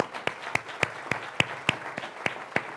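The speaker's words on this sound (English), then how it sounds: "But give them a round of applause." A room of people claps in a sparse, uneven burst of about ten sharp hand claps over a few seconds, close and fairly quiet, at a university tribute event.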